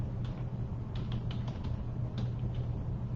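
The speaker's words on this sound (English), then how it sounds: "I'm going to try and type it in here" Soft clicks come from a computer keyboard as a short discount code is typed, a few scattered keystrokes over a steady low background hum.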